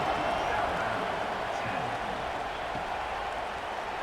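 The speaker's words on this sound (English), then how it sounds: "this crowd is buzzing after that last score" Broad steady roar of a stadium crowd in a college football video game, Ole Miss Rebels at Alabama Crimson Tide, a dense constant wash of noise with no breaks, heard beneath the commentator's play-by-play.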